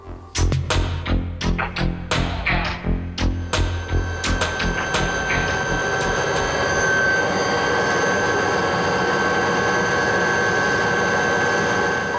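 A helicopter lands in a field at Rocamadour, a loud close rotor and engine roar that starts with heavy rhythmic thumping and settles into a continuous whining drone.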